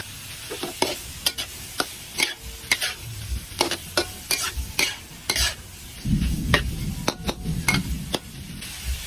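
Beef dinuguan being sautéed and stirred in a pan: a low sizzle under a run of quick, sharp scrapes and clinks of a utensil against metal, close up, irregular and fairly quiet.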